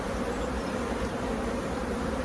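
Bees buzz steadily around an open hive during an inspection, a continuous close drone with no talking over it.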